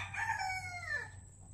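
A hen calls out on a farm: one close, drawn-out, strongly voiced chicken cry that falls in pitch at its end, over a steady low background hum.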